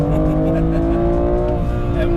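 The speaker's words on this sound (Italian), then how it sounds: "È un motore incazzato." A BMW M2 Competition engine holds a steady, harmonic revving drone, loud and close, with a voice talking briefly over it.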